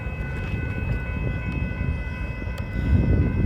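A steady low rumble of the inbound Gooding local freight train rolling past at a distance, with a constant mechanical drone that swells slightly near the end.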